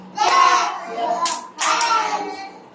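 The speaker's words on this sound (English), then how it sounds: "Clap your hands. Clap your hands." Kindergarten children clapping their hands along to a sung classroom rhyme, a few crisp claps close by, heard mixed in with the children singing.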